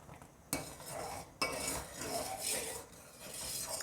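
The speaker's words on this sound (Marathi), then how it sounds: "ह्या दुधाला आपण सारखं सारखं असं हलवत राहायचं." Milk being stirred in a pan for an almond milkshake over low heat, a utensil scraping and clinking against the metal in a steady back-and-forth rhythm, close and fairly quiet, with two sharper knocks early on.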